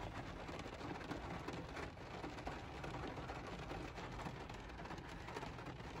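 Steady, dense rainfall patters continuously on surfaces nearby, a constant hiss with no voices.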